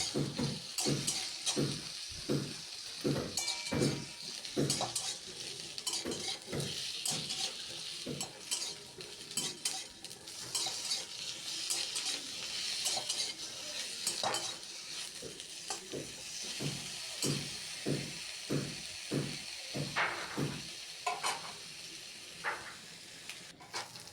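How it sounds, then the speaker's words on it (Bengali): Potato, eggplant and green chilli frying in a pan, with a steady sizzle under repeated rhythmic scrapes and clinks of a spatula stirring against the metal for the whole stretch, close and fairly loud, with no voices. "এভাবেই নেড়ে চেড়ে আলু বেগুন কাঁচা লঙ্কাটাকে একটু ভাজা ভাজা করে নেব আমি"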